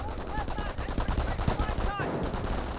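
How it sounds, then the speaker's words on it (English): MG42 machine gun fire in the Company of Heroes strategy game, rapid sustained bursts of loud rattling shots that continue throughout. "Scope rifles gets fully pinned there by the MG42"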